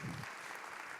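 Audience applause at a high school orchestra end-of-year celebration, a brief steady wash of many hands clapping in a hall.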